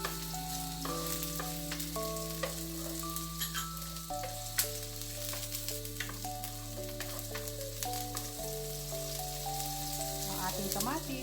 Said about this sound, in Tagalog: At this point, pwede na nating idagdag yung ating sibuyas.